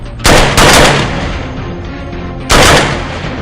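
An Indian-made carbine fires rapidly in three loud, sharp bursts: two close together, then a pause and a third. Each burst rings off into a short decay, with no talking.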